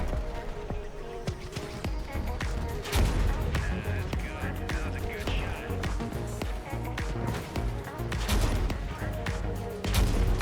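Cannon fire in the vehicle combat game Crossout, with repeated loud booming shots and impact blasts in quick bursts over a busy mix of engine and battle noise.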